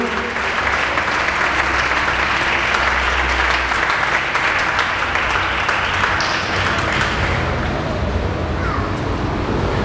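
A church congregation claps in a sustained, loud wash of applause during a spiritual fasting service, even and unbroken throughout, with faint voices blended in.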